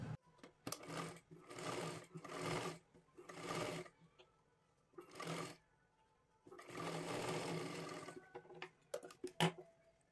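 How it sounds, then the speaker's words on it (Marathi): A sewing machine stitches a lehenga dress for a young girl in loud bursts of rapid mechanical whirring, each run lasting a second or two, with short pauses between them and a longer continuous run near the end. "आता इथून व्यवस्थित आपल्याला शिलाई करून घ्यायचं आहे।"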